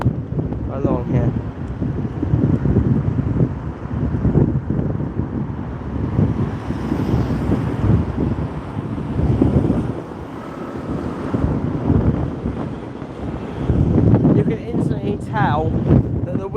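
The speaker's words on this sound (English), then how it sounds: "As you can tell, it's quite windy actually" Strong wind buffeting along a Weymouth seafront, a loud continuous rumble with gusts rising and falling throughout, with people talking over it.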